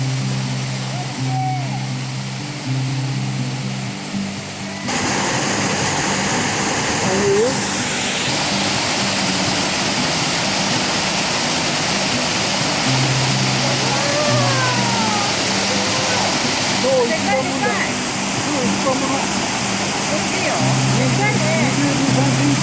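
A waterfall on a mountain headwater stream roars steadily into its plunge pool, loud and continuous throughout, with a voice and other sounds layered over it.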